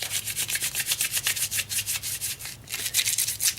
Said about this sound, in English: whenever you add sanding sealer to a piece of wood and you're rough sanding it like that